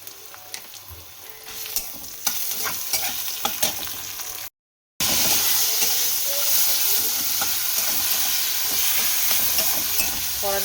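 Asafoetida and spices sizzle in hot oil in a wok, a loud, close, continuous crackling hiss with occasional stirring clinks; the frying breaks off briefly into silence, then resumes steady and intense.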